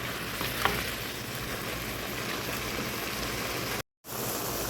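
Beef fries in a pan with masala, ginger paste and garlic paste for Afghani Kabuli pulao, a close, loud, even sizzle with stirring that runs without pause apart from a brief drop-out near the end.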